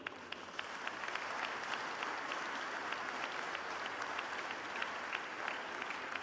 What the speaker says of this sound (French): Cet objectif, oui, vous pouvez applaudir.